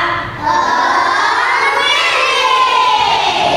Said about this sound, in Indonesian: supaya lebih semangat, kita mau yel-yel kelas dulu